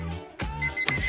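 An alarm clock gives short bursts of ringing beeps, with two sharp loud chimes in quick succession, close and clear with no voices.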